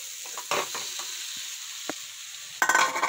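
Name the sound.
stir-frying cooked rice in a pan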